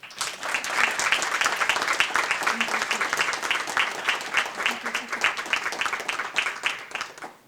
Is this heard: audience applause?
yes